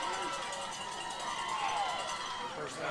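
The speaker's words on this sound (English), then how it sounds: "Crowd's getting loud." Crowd noise swells at a high school football game as fans react to a big defensive play, a broad roar heard from a distance.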